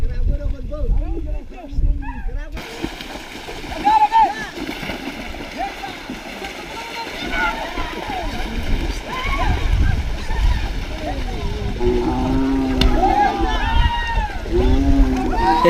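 Water splashes and sloshes as someone washes in a dirty puddle in the Madagascar jungle, irregular close splashes over outdoor noise, with voices and other sounds mixed in.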